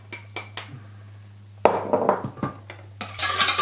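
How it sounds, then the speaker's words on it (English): Olive oil is whisked into anchovies, hot sauce and dried mint in a bowl, with a few separate clinks and then quick, busy scraping and tapping against the bowl. "we're going to add our olive oil, and we're going to just whisk that up"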